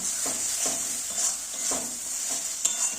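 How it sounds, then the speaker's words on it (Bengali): Spice paste for Bengali aloo dum sizzles steadily in hot oil, with a bright continuous crackle, and a spoon stirring through it makes soft scraping strokes about every half second; close and fairly loud, with no talk. "মশলাটা দিয়ে তেল ছাড়তে শুরু করে দিয়েছে, আর একটু জাস্ট হবে।"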